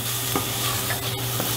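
Steady close sizzling of chopped garlic frying in a hot pan, with a few soft stirring scrapes.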